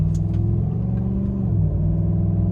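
A four-wheel-drive truck in Auto 4 on Goodyear Ultraterrain AT tires accelerates hard from a standstill, giving a steady, close, low engine rumble with no talk.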